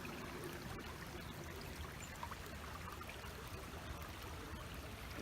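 A stream of water flows beneath a small footbridge beside a koi pond with a waterfall, a steady close, broadband rush and trickle that carries on without a break and has no voices over it.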